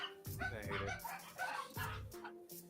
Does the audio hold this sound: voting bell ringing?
no